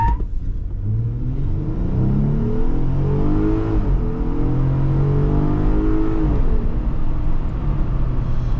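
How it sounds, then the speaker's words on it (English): Steady low engine and road rumble inside a moving Jeep Wrangler, with an engine tone rising and falling as it accelerates, continuous and fairly loud. "you hear so much road noise seeping through"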